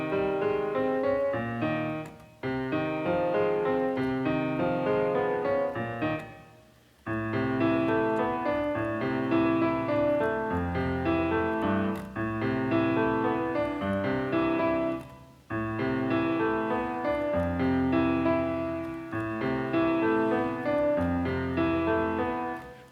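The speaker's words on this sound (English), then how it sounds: "This is solid piano sound." A piano sound played on a keyboard in FL Studio 21 rings out in sustained chords and melody lines, full and steady, with a few brief pauses between phrases and no talking.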